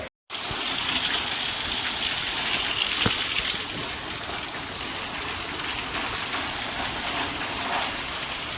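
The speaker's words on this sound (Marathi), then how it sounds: "भरपूर असा पाऊस मुसळधार पाऊस पडतो" Heavy monsoon downpour pouring steadily over a lane, a dense, constant roar of rain and running water that stays loud and unbroken throughout.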